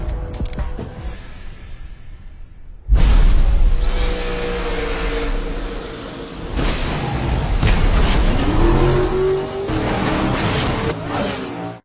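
A NASCAR stock car speeds away during an action-film chase: a sudden heavy boom is followed by a loud, roaring engine whose pitch climbs, mixed with whooshes and other dramatic effects.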